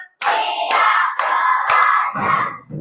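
A classroom of Indonesian schoolchildren claps together in counted bursts during a primary lesson, with four loud, dense groups of hand claps in quick succession, each separated by a brief pause, close and filling the room.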